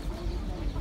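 Roosters for sale at the Taşköprü chicken market in Kastamonu give short, low clucks amid the steady bustle of the market, with faint voices nearby.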